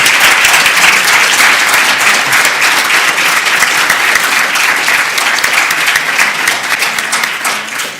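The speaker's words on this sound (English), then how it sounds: "I'm sure that applause was applying to you all" Audience at a plenary session of a conference on socio-ecological transformation policy applauding, a dense, loud wash of clapping that holds steady and fades slightly toward the end.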